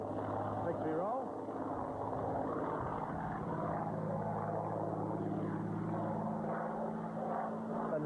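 A Hawker Hurricane fighter's piston engine drones steadily through a victory roll, a continuous roar whose pitch shifts slightly, heard at moderate distance beneath a voice-over.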